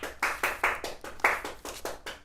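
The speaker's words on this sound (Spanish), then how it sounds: "Denle un aplauso a Dios." Rhythmic clapping from a church congregation at a worship service, about ten steady, evenly spaced claps at a moderate level with no talking over them.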